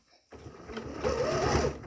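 A sewing machine stitching the leg bands onto homemade underwear starts after a short pause and then runs as a steady, close mechanical whir while a voice talks over it.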